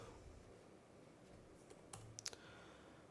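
Faint, sparse computer keyboard clicks, a few scattered keystrokes with a quick cluster near the end, over a quiet room hiss while someone types terminal commands for a server setup.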